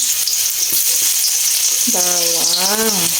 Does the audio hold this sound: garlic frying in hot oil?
yes